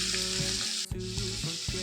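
Shallots, slit green chillies and curry leaves sauté in hot oil in a Kerala kitchen pan, a steady close sizzle with a few brief scraping stirs.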